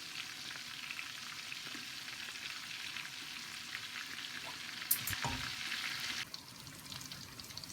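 Fish pakoras fry in oil over low-medium heat, a steady soft sizzle and crackle that continues throughout, faint and close, with a brief clink partway through and no voices.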